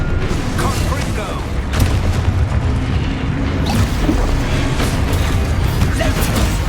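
Confringo fire blast spell cast in Hogwarts Legacy, a loud, dense booming burst with crackling, explosive texture that fills the whole clip amid continuous busy game effects.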